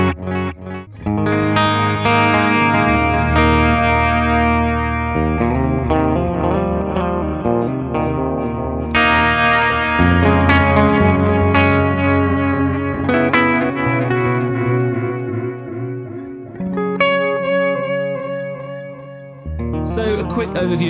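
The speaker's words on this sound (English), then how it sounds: "this one's like a delay sound with a wah pedal on it" An ALABS guitar effects pedal set to a delay tone with wah, playing a sustained distorted guitar phrase whose repeating echoes and sweeping filtered chords ring out loud and continuous with no voice.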